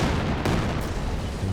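Katyusha rocket artillery salvo in Company of Heroes 2, a dense continuous rumble of launches and blasts at steady loudness with a sharper burst partway through.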